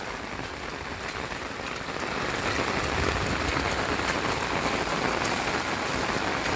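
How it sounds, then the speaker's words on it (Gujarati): Heavy rain pours steadily onto wet ground and standing water in a flooded village yard, a dense continuous hiss that grows a little louder after the first two seconds, with no talking. "ઘણો વરસાદ છે, ઘણો ઘણો."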